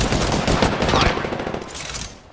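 Rapid automatic gunfire in the battle royale game Apex Legends, a dense loud burst of shots fading toward the end.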